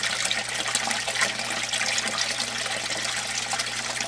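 An aquaponic bell siphon in a small system with a 25-gallon fish tank drains as water spills over the standpipe, making a steady close rushing and trickling flow.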